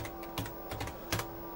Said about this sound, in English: so I can actually type in